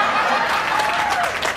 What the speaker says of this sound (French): on applaudit nous-mêmes